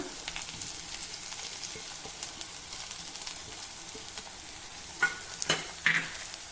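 Chopped Malabar spinach leaves stir-fry with onion and garlic in a pan, giving a soft, steady sizzle with faint stirring scrapes and a few sharper clinks near the end.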